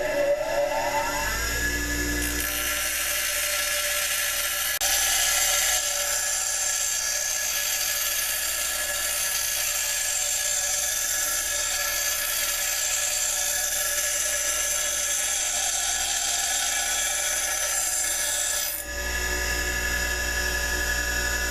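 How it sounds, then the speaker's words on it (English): A small bench grinder grinds an Old Hickory Kephart knife blade flat, a loud steady high-pitched whine that spins up early, holds for around sixteen seconds, then cuts off near the end. "And I use my little bench grinder for that."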